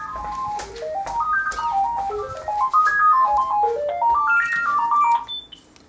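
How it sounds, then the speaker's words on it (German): A bright electronic ringtone plays a bouncing, stepwise melody of beeping tones, repeating its phrase loudly for several seconds before cutting off near the end. "Er ruft uns auf unserem Telefon an."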